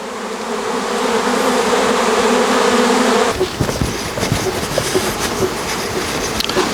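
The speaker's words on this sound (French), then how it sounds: "il y a beaucoup d'abeilles qui volent encore autour" A swarm of honey bees circles a branch holding the queen, giving a loud, close, steady buzz for about three seconds before it cuts to a rougher, clattering mix with the buzzing still underneath.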